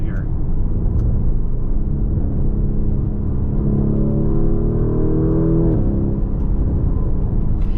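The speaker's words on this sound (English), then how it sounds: "Yeah, that is an exotic sounding V8." A Lamborghini Urus V8 engine revving from inside the cabin, a loud, steady low rumble that climbs in pitch then eases off, with a voice speaking over it.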